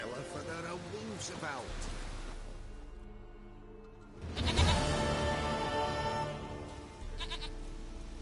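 A goat in The Witcher 3 bleats in several wavering calls, with a louder burst in the middle, against a soft ambient game background.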